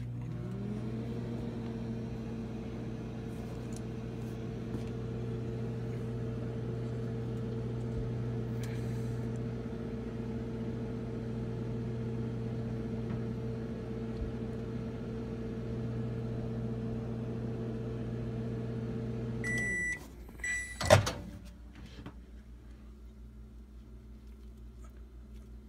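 Microwave oven running a 20-second time cook, a steady close hum that stops abruptly, followed by a few beeps and a door clunk.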